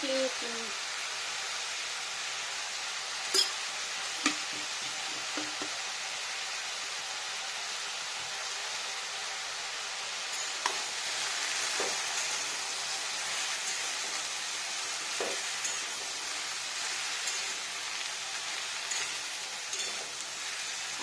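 Vegetables, ridge gourd and potato, fry in a pan with sugar only, a steady soft sizzle throughout, with a few faint clicks and taps of stirring.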